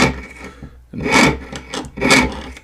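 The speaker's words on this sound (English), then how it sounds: "Just the slightest pressure is enough to pull the saw frame right through the metal" A fine jeweler's saw blade cuts through metal sheet with light pressure, giving raspy, rhythmic strokes in close bursts, quiet between pulls and louder on each pass.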